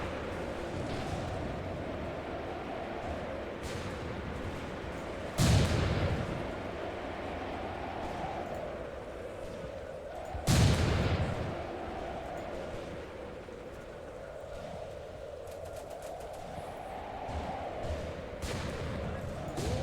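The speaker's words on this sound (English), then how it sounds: "Did I just hear some artillery?" Artillery fire in the WWII tactical game Graviteam Tactics: Mius Front, two heavy booming blasts about five seconds apart over a constant droning battlefield background, fairly distant and muffled, with no talking.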